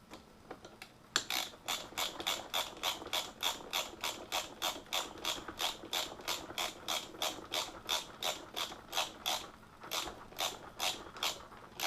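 A ratchet clicks in quick, steady bursts while screwing a shifter peg into a motorcycle forward-control assembly. The clicking is close and fairly faint, repeating rhythmically for about ten seconds with no talking.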